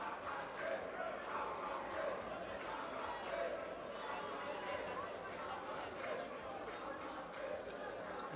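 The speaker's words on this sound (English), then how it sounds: "The crowd cheering for the UCU Lady Canons." A crowd cheers and chatters at a women's basketball finals game between the JT Lady Jaguars and UCU Lady Canons, a distant, steady roar with faint ball bounces and a commentator's voice over the top.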